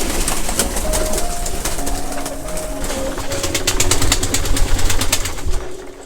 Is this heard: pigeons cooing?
yes